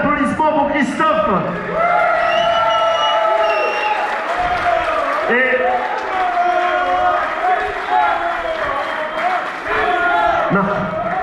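A concert audience at the Splendid in Lille applauds and cheers, a steady wash of clapping and crowd noise over several seconds with a voice talking over it.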